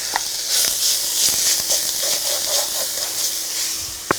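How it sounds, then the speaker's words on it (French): Beef searing in smoking-hot oil gives off a steady bright hiss and sizzle that holds throughout, with a few faint clicks and pan knocks underneath and no voices. "Mon huile fume en parallèle et je viens faire colorer mon bœuf."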